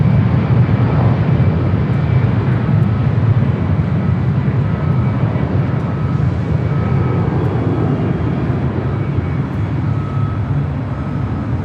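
A Legionnaire Airbus A319 jet airliner at Los Angeles LAX, bound for Bellingham, producing a continuous low, heavy engine rumble with faint tonal whine, steady and fairly loud with no voices.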